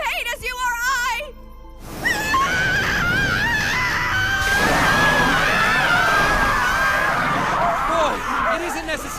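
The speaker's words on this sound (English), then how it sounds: "it isn't necessary for you to scream" Anime scene of a person screaming in pain during an experiment, a long sustained wavering scream over a noisy crowd-like background after a brief voiced outburst.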